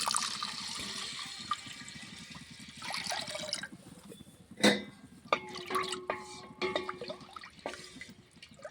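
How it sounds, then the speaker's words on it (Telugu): Water is poured onto washed lentils for dal in a village kitchen, with a close splashing, trickling stream and a few clinks and drips as the pour continues. "ఇప్పుడు పప్పుచారుకి కావాల్సిన నీళ్ళు అయితే పోస్తున్నా"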